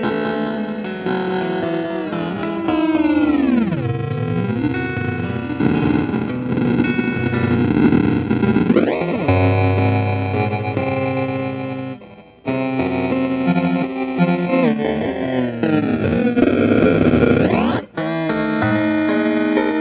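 Metallic, bell-like ring modulator synthesizer tones with clanging inharmonic overtones, pitches sliding and sustaining loudly, broken by brief gaps.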